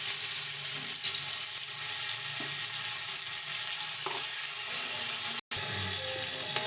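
Dried Bhola fish pieces fry in hot oil in a pan, a continuous loud sizzle with a few soft scraping stir clicks and one brief cut near the end, no voices.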